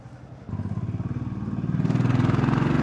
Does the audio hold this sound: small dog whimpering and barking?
no